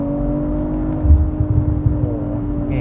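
A BMW M340i xDrive engine idles with a steady hum, then switches to sport mode and briefly rises into a rougher, throatier rev before settling back to a low drone.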